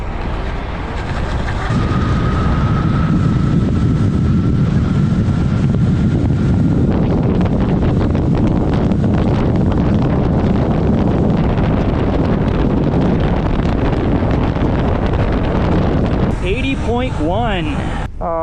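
A GSpace Mars 7660 17000W electric scooter ridden flat out at about 80 mph by a heavy rider in full gear, heard as a loud, steady roar of rushing wind with a faint motor whine early on.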